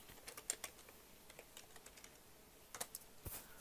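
Fingers tap on a computer keyboard in a quick, uneven run of soft clicks, close and fairly quiet, with no talking.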